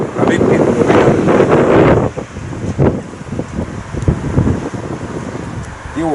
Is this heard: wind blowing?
yes